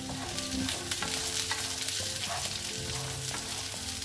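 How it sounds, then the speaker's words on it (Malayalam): Cauliflower fries steadily in a pan for a sadya-style masala curry, with a close, constant sizzle and repeated stirring clatter. "അതും ഇതിലിട്ടിട്ട് നന്നായി ഒന്ന് ഫ്രൈ ചെയ്യാം"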